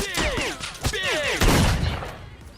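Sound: gunfire in a video game

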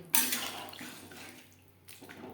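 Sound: pouring spice-rinsing water into potato fish curry

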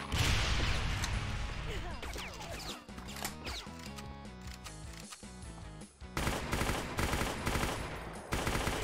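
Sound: submachine gun firing in Brutal Doom video game

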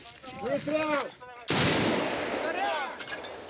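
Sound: gunshot from a repaired weapon at a frontline position

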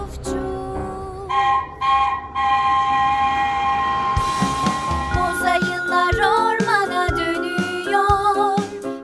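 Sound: train sound

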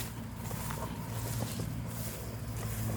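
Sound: Kubota L4708 tractor mowing grass in palm plantation

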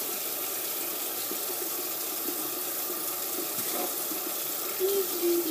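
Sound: water running from a tap to wet hair

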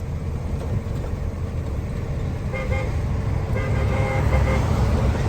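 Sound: KAMAZ truck driving past, honking

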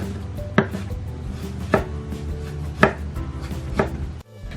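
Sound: knife slicing green onion base thinly

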